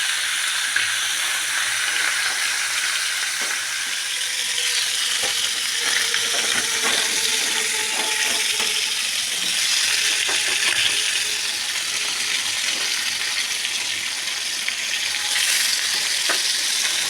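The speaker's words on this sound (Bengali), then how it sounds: "হাই ফ্লেমে একটু লাল করে ভেজে নেব" Chicken malai tikka pieces frying on high flame, a loud continuous sizzle and hiss with occasional stirring scrapes, close and steady throughout.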